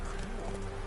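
The horse Roach's hooves in The Witcher 3 sound as a short, faint clop under a constant bed of game ambience and music, lasting under a second.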